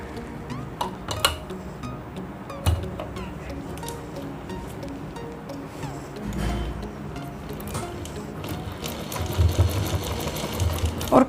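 A sewing machine stitches a kurti with a steady mechanical whir and fast ticking, close by at moderate loudness. A few louder clicks and knocks come through near the start and again toward the end.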